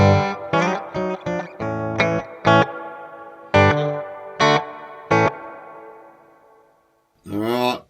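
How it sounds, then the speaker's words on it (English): Distorted electric guitar chords through a Sonicake Pocketmaster's spring reverb, a series of short punchy stabs and sustained chords with a shimmering tail that lingers after each hit, ending in a brief strummed burst. "Spring reverb."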